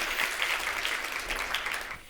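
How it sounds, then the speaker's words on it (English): Steady applause from a crowd after a keynote address, dense clapping that holds for a couple of seconds and eases slightly at the end. "Let's give him a round of applause."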